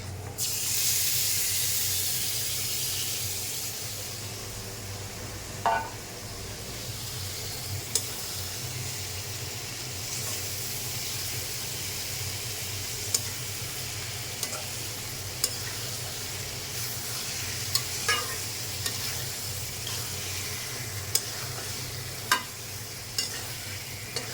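Meat sizzles and fries in a pan with onions browned for a rezala, a steady hiss held throughout, broken by a few sharp clicks and stirring scrapes, with no talking.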